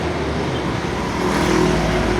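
Tour buses moving along a road in Bali, a continuous low engine rumble with steady traffic noise that swells slightly toward the end, no talking.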